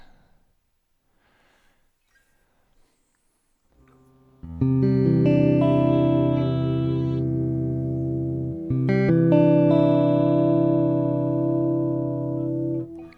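After near silence, a sustained guitar chord rings out with a slowed, warped and wavering pitch, briefly re-struck midway, loud and close.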